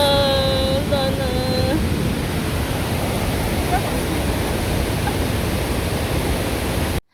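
Waterfall at Bomana in a Cameroon forest roars as a loud, steady broadband rush that fills the whole stretch, with a brief whistling tone near the start before it cuts off.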